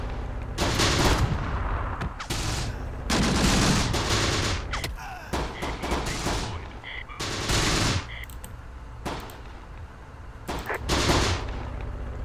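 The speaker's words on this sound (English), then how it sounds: "Also got some gunfire on the right side" Bursts of gunfire in the video game Close Combat: The Bloody First crackle repeatedly in a busy, loud battle soundscape, with volleys coming in clusters and brief pauses between them.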